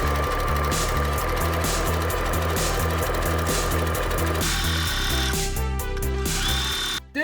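A sewing machine runs in steady rhythmic bursts while stitching the waistband of a checked flannel skirt, close and loud, pausing briefly near the end with music playing underneath.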